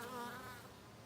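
A bee buzzes close by near a flower in a garden, a steady, near drone that holds for about a second and fades slightly.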